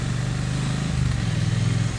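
Triumph Bonneville T100 motorcycle engine running while riding, a steady throbbing twin-cylinder thrum close up with a slight rise in pitch partway through, under wind noise and with no talk.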